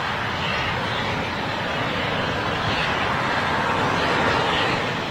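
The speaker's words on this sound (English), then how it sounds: "just by the nature of that sound, it sounds like one of the aircraft that's got its backs to us" A Eurofighter Typhoon jet engine running on the ground at RAF Coningsby, a loud, steady broadband roar and whine that swells slightly and holds throughout, heard alone without voices.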